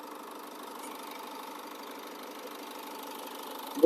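A 2013 Renault Koleos engine idles steadily with an even, low rumble, ending with a brief louder thump.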